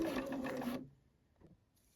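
A sewing machine runs a short burst of fast, even stitching along one side of a top, then stops abruptly, leaving near silence with a faint click.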